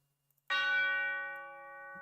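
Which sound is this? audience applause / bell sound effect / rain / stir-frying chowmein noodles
bell sound effect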